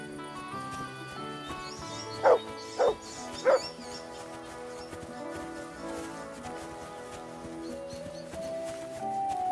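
A dog in the medieval video game Kingdom Come: Deliverance II gives three quick barks, loud and close, over a steady layer of game music and ambient sound.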